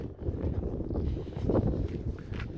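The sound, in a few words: wind blowing on a Stockholm street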